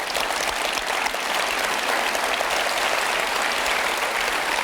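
A French TV studio audience breaks into steady, dense applause on a talk-show set, filling the whole moment loudly and evenly with no voices over it.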